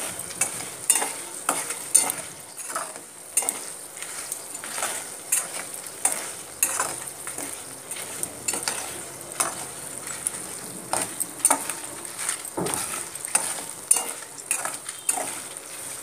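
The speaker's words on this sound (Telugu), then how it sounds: "ఈ పచ్చిమిరపకాయలు బాగా ఆయిల్లో ఫ్రై అవ్వాలండి." Green chillies fry in hot oil for a tamarind pulihora, with a steady sizzle and repeated scraping clinks of a spoon stirring through the pan, close and without talk.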